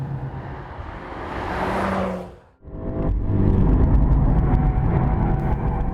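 A VW Golf R and a BMW M235i driven hard on a wet English race circuit: a loud engine drone builds, drops away abruptly, then returns as a strong sustained roar of acceleration, with no talking.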